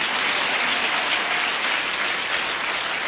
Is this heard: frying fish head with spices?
no